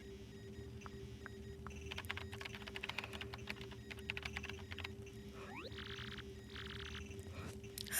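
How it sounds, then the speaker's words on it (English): Rapid keyboard typing sound effect from the Paper Mario: The Thousand-Year Door video game, bursts of clicky keystrokes over a steady electronic hum and game background music. "Use the keyboard to send whatever message you want."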